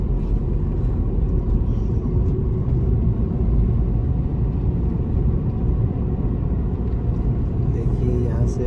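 A car drives along a mountain road in Ladakh near a river crossing, with a steady, loud low rumble of engine and road noise throughout and no breaks.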